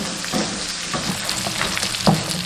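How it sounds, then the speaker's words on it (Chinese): Pork ribs and aromatics stir-fried in a hot wok, a steady close sizzle with scraping strokes of the spatula and a sharper clatter near the end. "下入料头炒香"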